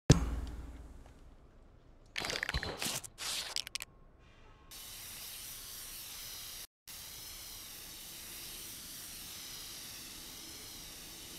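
A spray can hisses in the Infamous Second Son video game, with short bursts early on followed by a long steady spraying hiss, fairly faint and alone, briefly cut by a moment of silence.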